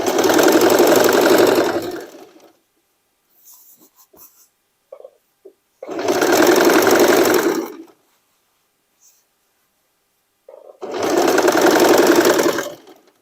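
A sewing machine stitches denim for a spring dress in three loud, close bursts of about two seconds each, with quiet pauses and faint handling noises between them.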